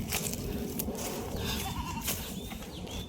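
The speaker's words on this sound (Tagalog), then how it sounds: "kambing ni Kuya Noel." A goat bleats on a farm, a few brief calls heard faintly over steady outdoor background noise.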